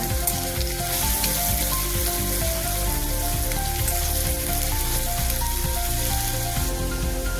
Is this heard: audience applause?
no